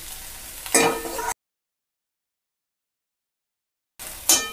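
Onion and capsicum fry in a pan, a close sizzle with stirring scrapes that is cut off by a stretch of silence and then returns, without any speech.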